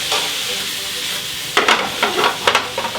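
Sliced mushrooms sizzle steadily in a hot pan as their water cooks off, in a rustic duck recipe. Partway through, a run of louder, scraping bursts marks them being stirred and turned over the continuous frying hiss.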